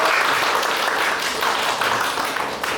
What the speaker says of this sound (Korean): 박수 환영해주십시오.